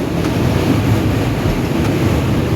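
A meter gauge train runs through a forest, a loud continuous rumble and rattle heard from on board, steady throughout with no voices.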